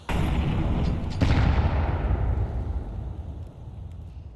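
HE grenades burst in a Counter-Strike match, a loud booming blast followed by a second heavy detonation that rolls and slowly decays, with no voices over it.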